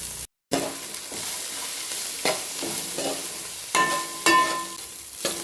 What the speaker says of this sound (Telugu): వీటిని మంచిగా ఫ్రై చేసుకోవాలి.